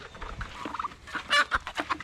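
A chicken in a pen with turkeys clucks in short, quick bursts, fairly close and soft, with a few sharper squawk-like notes and no voices.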